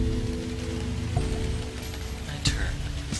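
Rain and wind ambience in a story-driven game, a steady wash of falling rain on surfaces with a low rumbling bed and a few sharper drips or taps standing out.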